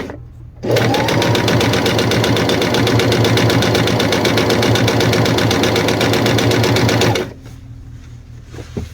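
A sewing machine stitches fabric in a steady, rapid mechanical chatter that starts abruptly, runs loud and continuous for about six seconds close up, then stops, with quiet room tone on either side.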